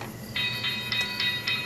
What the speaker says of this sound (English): You can turn down our train going by or turn it up higher.